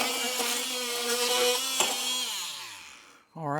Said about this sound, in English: So now I need to trim those off, and I'm going to use my trusty Flex OMT.